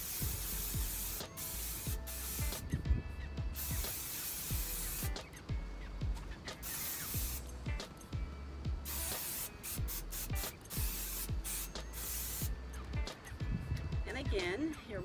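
Repeated short aerosol bursts of protector spray a second coat onto a Dooney & Bourke leather bag, hissing in quick pulses with pauses between, up close and fairly quiet, while a person talks between sprays.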